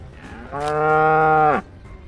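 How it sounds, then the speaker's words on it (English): A cow gives a single loud, close moo lasting about a second, sustained and steady before it cuts off, with no other sounds around it. "Cow."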